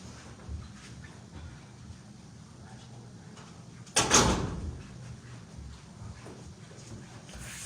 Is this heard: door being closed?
yes